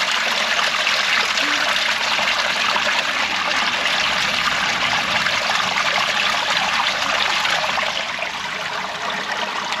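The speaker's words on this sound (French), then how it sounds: "Ça coule, ça coule, ça coule." Water pours out of a drainage pipe into an inspection chamber in a dense, continuous rushing splash, steady and close, easing slightly near the end.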